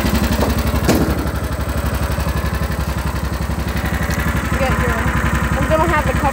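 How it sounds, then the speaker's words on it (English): A 1999 Mule utility vehicle engine with a hole in the side of its exhaust, idling close up in a loud, steady rapid chugging throb with a raspy, leaky edge and no voices. "Exhaust has a hole in the side of it, so it's kind of louder."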